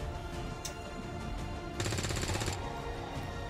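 Video-game gunfire, a short rapid automatic burst firing in a quick regular rhythm, moderately loud over a steady background rumble, with a few fainter single shots before it.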